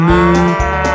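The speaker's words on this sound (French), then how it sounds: "La vache dans le bus fait me, me, me, me, me, me, me, me, me" A cow moos within a French children's farm song about the wheels on the bus, two loud, close, drawn-out low moos back to back over musical accompaniment.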